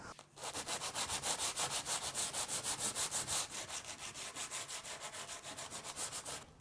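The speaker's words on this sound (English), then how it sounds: "I'm going to take the 60 grit, the coarse sandpaper, and by hand, I'm just going to work to wear the stain off of this edge" Coarse 60 grit sandpaper is rubbed by hand along the stained edge of a wooden dresser, giving steady rhythmic back-and-forth rasping strokes, about four per second, close and continuous with no talk.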